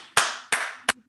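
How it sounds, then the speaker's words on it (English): Three sharp hand claps in a quiet room, evenly spaced at first and the last quicker and shorter, each a crisp close burst with a short decay. "So tell us about your little clap."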